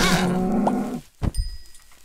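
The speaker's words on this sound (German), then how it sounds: "Oh, jetzt noch eine Kuh." A cow in MineClone2, a Minecraft-like game, gives a short low moo after a stretch of other game sounds, followed by quieter in-game noise.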